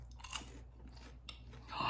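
Close, soft crunching and chewing of sea salt caramel popcorn, a few quiet bites in quick succession with no talk.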